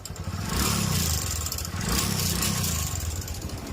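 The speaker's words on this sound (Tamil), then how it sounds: "இன்ஜின் நாய்ஸ் எப்படி இருக்குன்னு பார்த்துக்கோங்க." A motorcycle engine idles and revs steadily up close in a repair shop, a dense throbbing rumble with mechanical clatter, loudest between surges and never dropping out.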